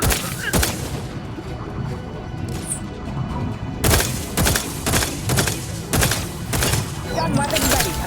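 Bursts of video game gunfire crack out in repeated sharp volleys, loud and close, with a dense run of rapid shots in the second half over a busy game soundscape.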